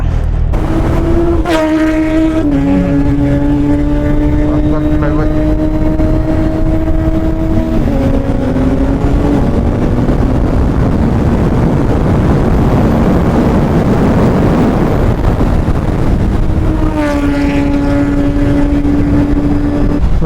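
Heavy engine of a Brutale 800 motorcycle on a ride: loud and close, a sustained growl with rising and falling revs, continuous throughout.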